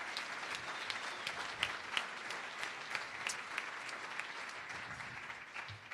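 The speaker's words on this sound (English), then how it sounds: "Give those folks a nice round of applause." Applause from a room full of people at an evening camp gathering, fairly distant and soft but continuous, with scattered sharper claps standing out from the steady patter.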